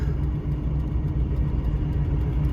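A cabover truck rolling slowly into a junkyard, its engine rumbling in a low steady idle-like drone, close and continuous with no voices.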